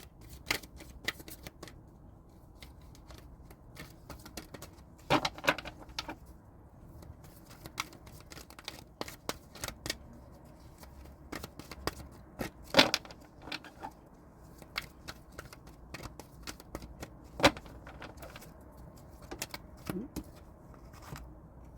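Tarot cards being shuffled for a card reading: a steady run of crisp, close riffling and snapping with soft pauses between bursts.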